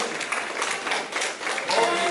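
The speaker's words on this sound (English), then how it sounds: "let's give all of them a big round of applause" An audience gives applause to honor veterans at a senior event, a steady dense wash of many hands clapping at moderate volume with faint voices mixed in.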